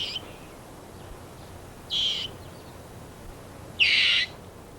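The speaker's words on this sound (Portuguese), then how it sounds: "Um guinchado alerta o grupo da presença de uma águia" African rock hyrax alarm shrieks on a rocky hillside warning of an eagle: three short, piercing high calls spaced about two seconds apart, the last the loudest, over a quiet outdoor background.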